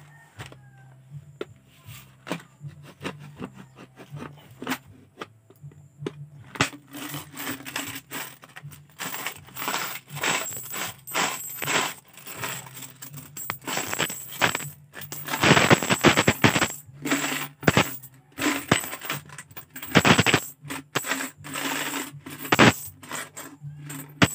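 Saved coins poured out and counted give a steady run of sharp metallic clinks, clatters and scrapes, sparse at first and then denser and louder, with bursts of jangling pile movement and no talk.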